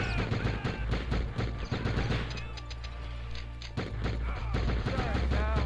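Rapid, heavy gunfire in a video game pounds almost without pause, dense bursts of shots layered with booming impacts and occasional voices.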